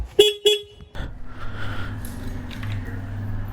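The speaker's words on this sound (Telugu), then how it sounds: "అదేటనియా బుల్లెట్ హార్న్ కాస్త స్కూటీ హార్న్ అయిపోయింది." A Royal Enfield Bullet 350 motorcycle gives two short, thin horn toots that sound like a scooter's, followed by a low idling engine rumble.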